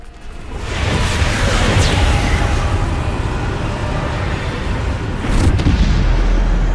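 A Bombarda explosion spell in the Hogwarts Legacy video game sets off a loud, deep booming blast that builds into a long rumbling roar, followed by a second burst near the end.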